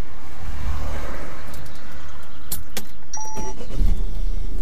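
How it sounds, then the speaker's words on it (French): A car engine turns over and settles into a low idle during a practice driving test, with a few clicks and mechanical clunks nearby. "Je vous laisse mettre le moteur en route"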